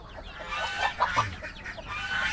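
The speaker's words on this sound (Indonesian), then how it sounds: "Ini anak-anak ayam tanggung." Half-grown young chickens cluck in a village pen, several short soft calls at close range over faint background noise.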